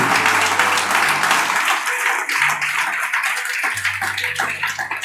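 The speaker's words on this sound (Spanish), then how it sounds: "Dale ese aplauso como creyendo." Congregation applause during a spiritual warfare sermon at a church service, loud sustained clapping over a low droning background tone that drops out and returns.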